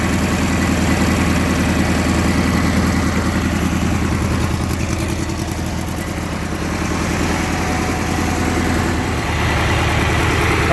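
A Cub Cadet 1811 lawn tractor engine runs on a newly fitted carburetor, a loud, close, steady chugging idle with a rapid, even firing rhythm throughout and no speech.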